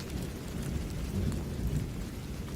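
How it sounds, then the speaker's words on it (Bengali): Steady heavy rain with low rumbling thunder throughout, a continuous dense wash of sound without pauses. "ওই হয়তো ঝড়ের জন্য জানালায় হাওয়া লাগছে"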